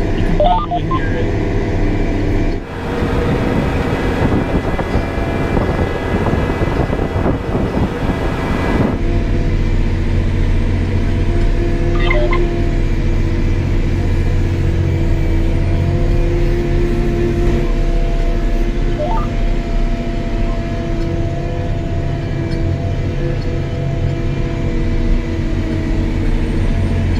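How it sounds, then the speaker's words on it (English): Steady engine drone and mechanical whine inside the cab of a 2017 Case IH QuadTrac tractor with odd steering, with faint creaks and clunks from the steering mixed into the continuous loud rumble and no talking. "the steering on this is kind of weird. Like, it makes some noises. You can probably hear it."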